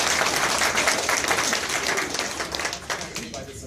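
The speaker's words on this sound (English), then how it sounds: "I think that's worthy of applause" Audience applause at a university event, a dense wash of clapping from a crowd that holds steady and slowly tapers, with faint voices mixed in.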